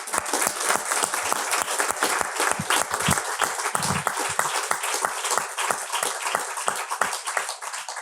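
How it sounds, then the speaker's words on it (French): Sustained audience applause at a conference, dense rapid clapping from a room full of people holding steady throughout. "j'aimerais qu'on applaudisse très fort pour elle"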